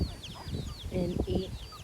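Free-ranging chickens on a small farm cluck and murmur close by in short, uneven bursts, with a few thin chirps from chicks above them.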